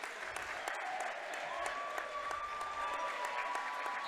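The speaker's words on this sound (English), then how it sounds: "the Meadowbrook faithful is standing up and applauding" Meadowbrook fans stand and applaud at a high school basketball district championship game, a steady, dense wash of clapping from a large crowd throughout, with a faint sustained whistle-like tone and some background chatter.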